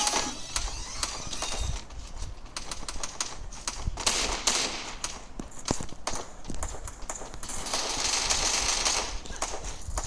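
Gunfire in the mobile battle game Free Fire: dense rapid bursts of shots and clattering clicks run through the whole stretch at moderate loudness, with a faint voice now and then underneath.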